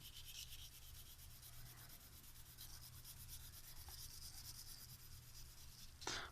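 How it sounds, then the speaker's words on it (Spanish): A thick pencil shades back and forth on paper with a faint, steady, close scratchy rubbing that continues without a break. "Estoy utilizando un lápiz bastante grueso para que puedan apreciarlo en el video"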